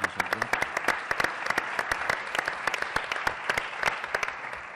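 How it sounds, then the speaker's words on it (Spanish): An audience at a flamenco culture congress panel on cultural economics claps for a speaker, a steady burst of many hands with sharp individual claps standing out, fairly close and loud, with no talking over it. "Yo creo que también se merece un fuerte aplauso por parte de todos nosotros"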